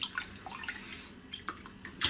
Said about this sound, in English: Now we just want to stir it through.